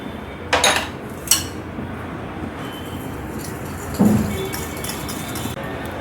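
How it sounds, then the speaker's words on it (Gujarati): Yogurt and powdered sugar are mixed in a bowl, with a few sharp clinks of a utensil against the bowl and a quieter scraping between them, close by, with no talking. "1/4 કપ છે દહીં લેશું, અને એમાં હાફ કપ પાવડર સુગર આપણે એડ કરીશું અને એને મિક્સ કરી લઈશું"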